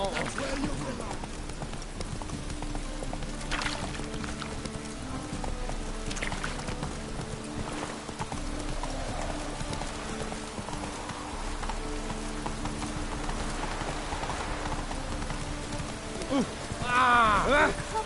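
Geralt's horse Roach in The Witcher 3: Wild Hunt, rhythmic hoofbeats clip-clopping steadily under loud ambient game noise and rain-like hiss, with voices speaking over it and a brief flourish near the end.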